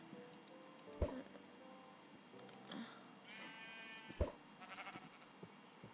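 Sheep in the Minecraft video game bleat a few short times amid quiet game sounds and occasional clicks, fairly faint and without talk over them.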